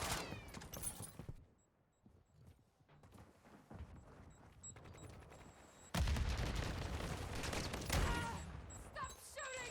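Gunfire in the PC shooter Modern Warfare 2: bursts of rapid automatic shots crackle at the start, fade into quieter scattered fire, then swell again into dense, loud sustained shooting with sharp individual cracks near the end.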